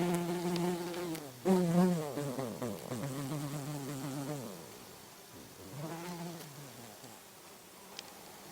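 Bees caught in a hooked bee trap buzz loudly and close by, their whining drone wavering in pitch and swelling in bursts before fading, then rising again, with no talking.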